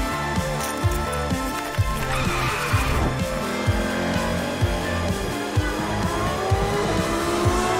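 Racing cars roar and skid through Hong Kong Island streets in an open-world driving game, loud engine drones layered with repeated sharp tire squeals, mixed with game music, no talk.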